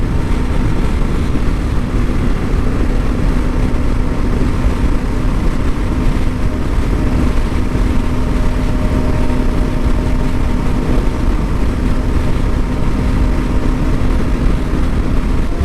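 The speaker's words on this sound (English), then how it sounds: "if you're wondering what the Tusk D-Sport tires sound like on the Interstate" KLR650 motorcycle on Tusk D-Sport tires cruising an Interstate near Lake Mead, Nevada: a steady, loud, unbroken rush of engine drone, tire hum and wind from the rider's position, with no talk.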